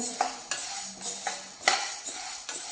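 Dal dry-roasting in a pan is stirred with a metal spoon, giving regular scraping clinks about every half second over a soft sizzle, close and clear with no voices.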